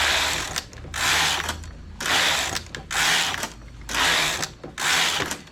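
A knitting machine works English rib rows for a vest, its carriage sweeping back and forth in five loud, even swishing passes about a second long, separated by short pauses with a low mechanical hum underneath.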